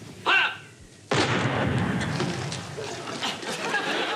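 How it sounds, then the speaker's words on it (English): A crude Smith gun fires onions during a Home Guard battle in a Dad's Army comedy episode. A short voice comes first, then a sudden loud bang gives way to a sustained rumbling wash of noise. "they defeat an opposing Home Guard unit by firing onions out of what looks like a very crude gun"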